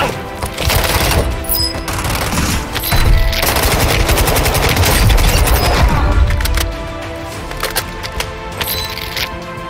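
Weapon fire in Warzone Mobile, loud rapid machine-gun bursts with sharp cracks and booming impacts close by, easing slightly toward the end.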